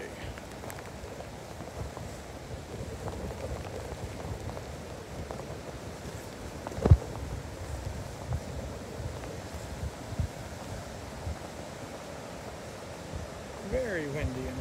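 Strong wind and rough waves at a beach by the Sturgeon Bay Ship Canal in Wisconsin create a constant blustery rush with low surf rumble and microphone buffeting, and a person's voice is faintly heard.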